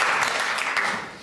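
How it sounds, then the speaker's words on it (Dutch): Applause in a Dutch parliamentary debate hall, a short dense burst of clapping from many hands that fades slightly toward the end. "U krijgt vast een applaus voor dit debat."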